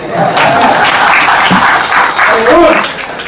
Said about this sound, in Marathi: तुझ्या टाळ्या फार महत्वाच्या. तुम्ही टाळ्या वाजवल्या तर मी बोलू शकतो